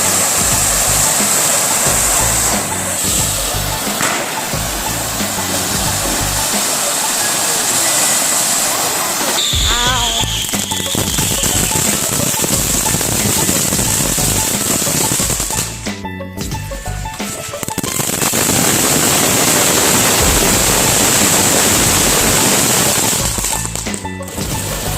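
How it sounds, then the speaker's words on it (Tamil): Disco shower firecracker fountain at a Diwali celebration spraying sparks with a continuous loud hissing, crackling roar that holds steady for many seconds, with brief dips and sharp bursts of other crackers around it. "டிஸ்கோ ஷவர் செமையா இருக்குல்ல, அவ்வளோ சவுண்டு வரல"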